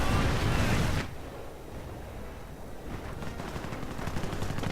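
Gunfire from a Churchill tank in a World War II strategy game battle, a loud burst of cannon and small-arms fire that cuts off abruptly, followed by quieter rattling shots and rumbling combat.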